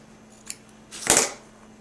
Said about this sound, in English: With my scissors, I just cut these 2 pieces away.